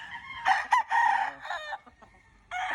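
A gamecock rooster clucks and gives short crowing calls while being bathed, several loud close bursts separated by brief pauses, with no talking.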